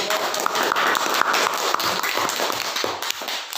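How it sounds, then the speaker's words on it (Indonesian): Classroom applause for a student group during a teaching-practice lesson, dense rapid clapping from many hands sustained and fairly loud throughout. "Mari tepuk tangan dulu untuk kelompok"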